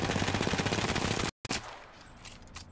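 Rapid automatic gunfire in a video game rattles loudly and close, a dense burst of shots that cuts off abruptly, then a few scattered fainter shots follow.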